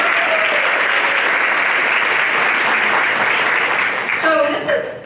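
A large audience at a morning address of a Latina leadership event in Connecticut breaks into sustained, dense applause that fills the room, tapering slightly near the end as a voice begins to speak over it.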